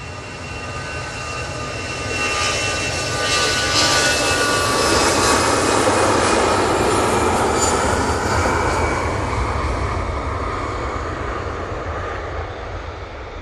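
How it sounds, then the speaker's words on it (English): An EasyJet Airbus A320-200 departs Manchester Airport bound for Hamburg, its jet engines swelling into a loud roar over a few seconds and then slowly easing as it pulls away, with a whining tone riding above the rumble. "that EasyJet is off to Hamburg using the A320-200 for that flight"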